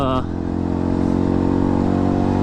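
A small motorcycle ridden on cold, wet, salty winter roads, its engine droning loud and steady close by with a brief shift in pitch at the start.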